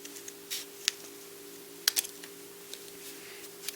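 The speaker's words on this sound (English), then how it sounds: "And now I'm cutting through several layers. That's why I like to have a big pair of scissors." Big scissors cut through several stacked layers of paper, giving a few sharp, separate snips with pauses between them, fairly quiet over a steady low hum.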